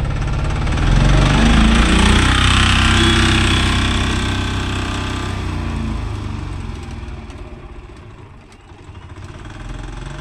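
Mahindra 575 DI tractor fitted with cage wheels, driving through a field, its engine running loud and steady throughout before easing off slightly toward the end.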